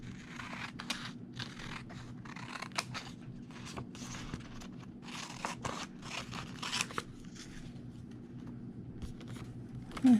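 Scissors snipping a paper card figure for a handmade tarot card, a quick run of small crisp cuts close up and fairly quiet, with no talking.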